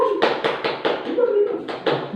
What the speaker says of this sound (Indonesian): Tepuk tangan untuk Mas Satrio.